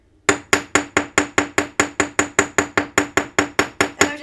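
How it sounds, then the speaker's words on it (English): A riveting hammer blade strikes a metal ring to cut small hash marks, producing a steady, rapid series of about seventeen bright metallic taps up close with no talking. "This one I'm going to use a blade of a riveting hammer."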